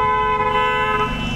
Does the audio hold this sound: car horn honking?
yes